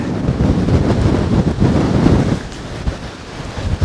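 Strong Storm Darragh wind buffets the microphone on the Dorset coast, a loud gusting roar mixed with crashing surf, easing briefly before rising again.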